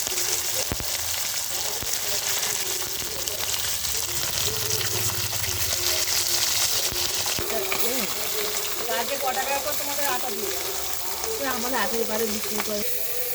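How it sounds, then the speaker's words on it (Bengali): Large pieces of bhola fish fry in a pan, a constant busy sizzle and crackle heard close up while people talk over it in the background. "মাছগুলোর এক পিঠ হয়ে গেছে, দেখো আরেক পিঠ উল্টে পাল্টে ভেজে নিচ্ছে।"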